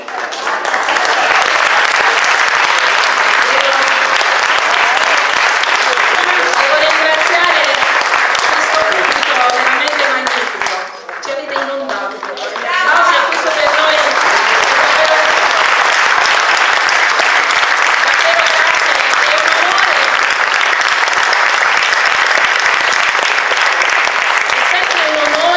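At a September festival concert in Lanciano with a choir, the audience keeps up dense, steady applause almost nonstop, dipping briefly in the middle before swelling again, with voices mixed into the crowd noise.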